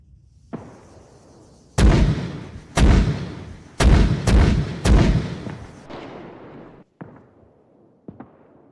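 Mortar shells in the video game Arma 3, three units firing two rounds each: a faint distant thump, then six loud booming blasts in quick succession, followed by a few softer far-off thuds as the rounds land.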